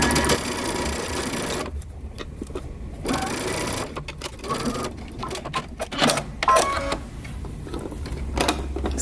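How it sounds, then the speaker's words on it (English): A sewing machine runs a long basting stitch through fabric, a fast steady mechanical whir in long stretches broken by short pauses and handling clicks, close up. "I'm just going to create a basting stitch so I can baste these two together"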